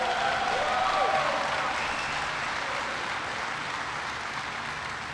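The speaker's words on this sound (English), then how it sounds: "Give Quentin a big round of applause." An audience at a President Obama clean-energy event in Iowa applauds Quentin after his introduction, a dense, even patter of many hands that starts strong and slowly eases off, with no voices over it.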